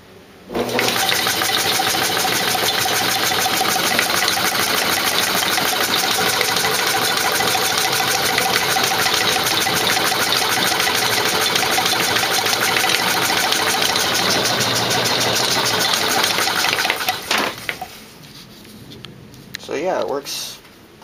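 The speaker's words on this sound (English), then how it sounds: "I've got it belted to my restored GE electric motor, and I'll plug it in so you can see it working." Homemade air pump belt-driven by a restored GE electric motor, running with a steady loud mechanical hum and rapid pumping chatter for about seventeen seconds before it is switched off and winds down.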